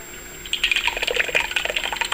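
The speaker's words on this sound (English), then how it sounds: "We're going to put it through a strainer so that we can catch all of the seeds and any skin that's left" Homemade tomato puree, with seeds and skins, worked through a metal strainer in a kitchen: a close, busy run of light clicks and scraping taps with faint liquid sounds, no talking.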